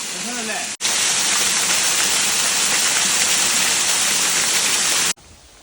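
Stream water rushing across a rocky trekking path on a sunny day in Chikmagalur, a loud, steady broadband roar close by that starts and stops abruptly.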